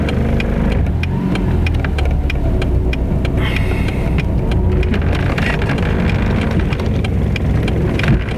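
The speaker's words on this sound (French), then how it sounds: "Il y en a là-bas, ils démarrent leur bagnole." A car engine running and revving in a flooded street in Pas-de-Calais, a steady continuous motor drone mixed with the wash of water and ambient noise, with sharp clicks scattered throughout and no talking.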